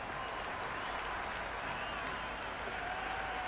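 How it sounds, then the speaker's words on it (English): Cricket crowd in the video game Cricket 26 cheering and applauding through an IPL match, a steady, dense wash of clapping and crowd roar lasting throughout. "The crowd are loving every minute of this match."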